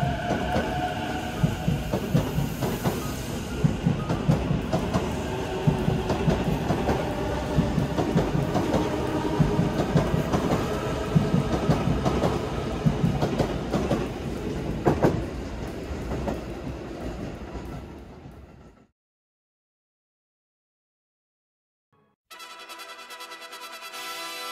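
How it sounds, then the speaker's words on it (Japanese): A Sotetsu-JR through line train passing, loud rolling rumble with rhythmic wheel clatter for most of the stretch, then it cuts to silence before a faint return of noise. "それじゃあ列車を見送って今回は終了するぜ。"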